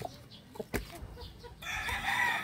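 Chickens cluck in short bursts, then a rooster crows loudly and steadily for about a second near the end.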